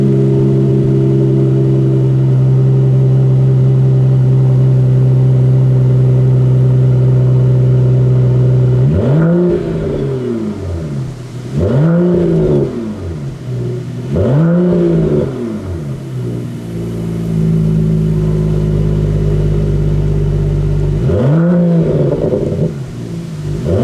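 A 2018 Mercedes-AMG E53 with sports exhaust idles steadily, then gives a series of loud, close revs, three in quick succession and one more after a pause, first in Comfort mode then in Sport Plus.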